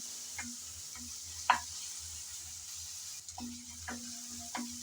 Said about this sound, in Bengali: নেড়ে চেড়ে হালকা করে ভেজে নিচ্ছি যাতে আদা আর রসুনের কাঁচা গন্ধটা চলে যায়